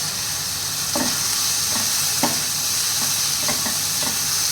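Four small green cardamom pods drop into a hot pan and sizzle steadily, with a continuous frying hiss and a few light stirring clicks, close and alone with no talk.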